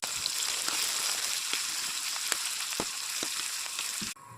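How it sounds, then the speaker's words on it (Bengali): Sliced onion and green chili frying in hot oil already seasoned with black cumin and dried chili, a steady bright sizzle with scattered pops and crackles, close up, cutting off abruptly at the end. "পেঁয়াজ কাঁচামরিচ দিয়ে দেবো"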